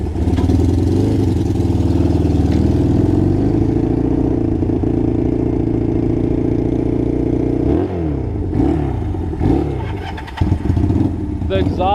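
A small 1973 Honda CL175 carbureted motorcycle engine with a cut-off exhaust runs loudly and steadily close by, its note wavering and shifting as the revs change toward the end.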